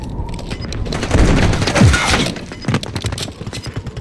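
A Semtex grenade thrown and detonating in Call of Duty: Modern Warfare III multiplayer, a close, heavy blast with crackling debris amid scattered gunfire and game noise.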